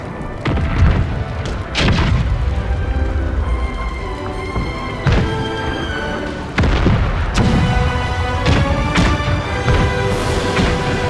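Warships blow up during a naval battle in Total War: Empire: a string of heavy, booming explosions, some close and loud, each rolling into a rumbling decay over a constant noisy battle din.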